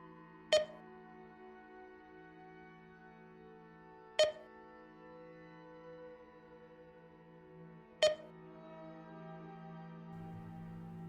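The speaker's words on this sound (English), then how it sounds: "The same thing, a rhythmic series of beeps." Three evenly spaced electronic beeps from a video game, about four seconds apart, over a steady synthetic hum.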